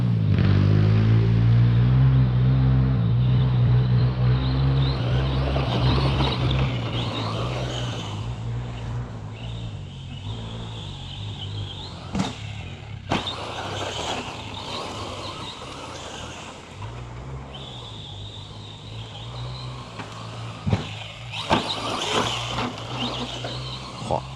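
An Arrma Fury brushless 2WD RC car, 3650 3900 KV motor on 2S, whines loudly up close and then fades as it passes, with a few sharp knocks and clatters over rough ground near the end.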